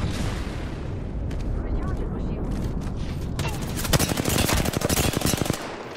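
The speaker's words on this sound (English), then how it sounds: "Replicant signaling an airstrike" Airstrike artillery bombardment in Apex Legends: a dense, loud barrage of rapid blasts and crackling impacts that builds into a fast rattling burst near the end, with a voice talking over part of it.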